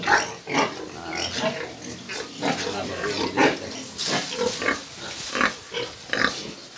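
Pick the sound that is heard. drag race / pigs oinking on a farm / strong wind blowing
pigs oinking on a farm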